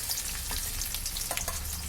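Chopped onion and green chilli fry in a pan for a vegetable lentil dal, a close, continuous crackling sizzle with small pops and occasional scraping stirs throughout.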